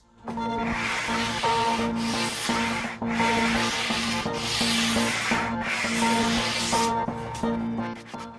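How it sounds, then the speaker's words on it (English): Steady, rhythmic strokes of hand sanding across a wooden market sign, each pass a rough rasping rub repeated over several seconds, with tonal music playing beneath. "And now it's time for some hand sanding."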